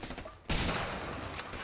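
Sustained gunfire in the video game A Way Out erupts abruptly after a brief quieter lead-in, a loud, dense burst of shots that continues without pause to the end.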